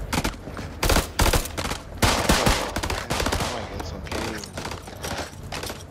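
Bursts of gunfire from House of Ashes, a horror video game set in Iraq, fired loud and close in repeated volleys across the stretch, with short pauses between bursts.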